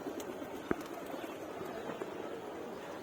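Pigeons in a loft on a late-summer morning, soft low cooing under steady background noise, with a single sharp knock and a fainter tap.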